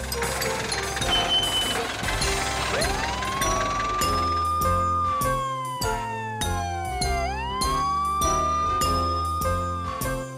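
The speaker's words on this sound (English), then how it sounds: "Ambulance." A wailing ambulance siren rises and falls in long, slow sweeps over a loud, rhythmic music track with chiming notes.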